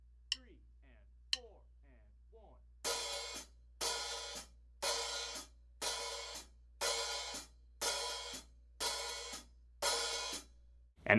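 A hi-hat keeps a steady beat, alternating short closed ticks with long sizzling open washes that ring in evenly spaced bursts, played alone.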